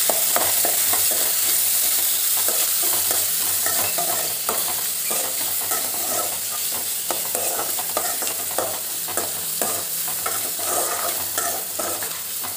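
Onion, coconut and chillies sizzle steadily in a hot pan while being stirred, with a constant bright frying hiss and repeated scraping stirs, close up and with no talking, as part of making horse gram chutney.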